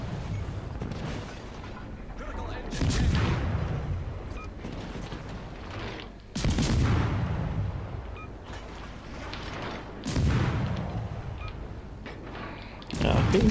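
Naval gunfire in World of Warships Legends from the USS Black, with three heavy booming salvos spaced a few seconds apart over a steady rumbling battle background, loud and close.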